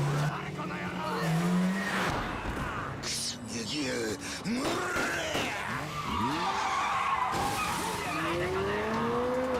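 Tires screech and skid in Yakuza 0 as a powerful car swerves, with rising squeals and engine roar close up, while people shout and talk over the action.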